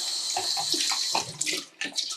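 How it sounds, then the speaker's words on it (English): A Nama J3 juicer part is rinsed under running tap water: a continuous hissing, splattering stream close by, with small shifts as the part moves under the flow and a brief dip near the end. "wash it with running water"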